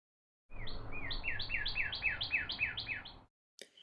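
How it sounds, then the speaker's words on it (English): A bird repeats a bright chirping call about nine times in a quick, even series of rising-falling notes, close and clear, followed by a brief fainter chirp after a short pause. "What sound does a bird make?"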